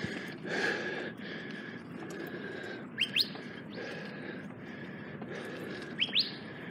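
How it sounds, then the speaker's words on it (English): A few sharp, rising bird calls ring out twice over a steady rushing background, distinct but brief. "That's a loud bird."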